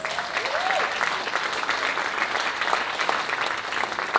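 A steady round of audience applause at an inspirational speaking event, many hands clapping together in a dense, even patter that holds at a constant level throughout.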